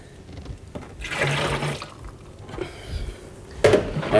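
Water splashes and runs over an emptied Coopers beer kit can during homebrewing, in two bursts of rinsing with a short pause between them. The sound is close and moderately loud, with no talking.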